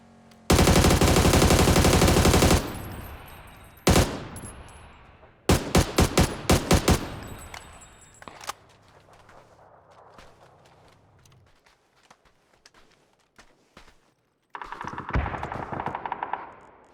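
Automatic gunfire in PUBG solo play: a long loud burst, a lone shot, then a rapid string of close shots, quieter rattling, and a final sustained burst of fire.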